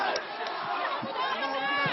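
Protesters near the Sri Lankan parliament cheer at Sri Lankan army para forces, a dense, muffled crowd roar that holds steady throughout, with voices and shouts mixed in.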